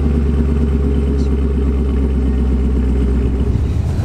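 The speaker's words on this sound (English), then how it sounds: "let's start it up, hit the road, and listen to that all important sound coming from the V8." A Vauxhall VXR8 with a 6.2-litre V8 rumbles loudly and close by, a deep steady idle with a throbbing low-end pulse and light mechanical clatter, easing slightly near the end.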